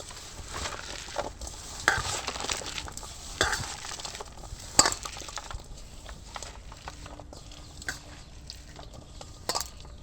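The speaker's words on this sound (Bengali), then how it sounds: "সব কিছু একসাথে মাখিয়ে নেব ভালো করে।" Spinach and potato pakora batter being stirred and mixed by hand in a bowl, giving soft wet squelching and scraping with occasional sharper clinks, steady and close, no talking.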